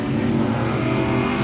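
A Pro 2 drift car at qualifying on a Texas track, its engine a loud, sustained roar with a brief throttle lift.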